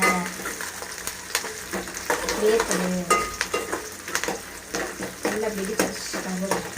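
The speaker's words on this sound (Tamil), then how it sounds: "கருவேப்பிலை வெங்காயம் எல்லாத்தையும் போட்டாச்சு." Curry leaves and onions frying in a pan for a dried fish curry, with steady close sizzling broken by repeated scraping and clinking of a spoon against the pan; some faint voices sound in the background.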